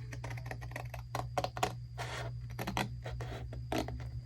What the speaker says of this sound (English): I'm just going to take my scissors and I'm going to cut to one side of that mark all the way down